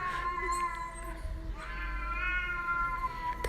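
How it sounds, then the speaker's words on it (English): A cat outdoors in the early morning meows twice, with a shorter call followed by a longer drawn-out one, clear and fairly close over quiet ambient noise. "That's a cat that's outside."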